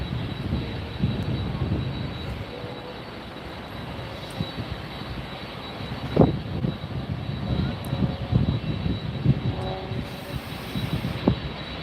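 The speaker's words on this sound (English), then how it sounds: "So this aircraft you're looking at is, like I said, a 767-300 ER, 24-year-old jet" Boeing 767-300ER jet, 24 years old, at Miami airport at night, a steady distant engine rumble and roar with occasional clanks and hiss from the ramp.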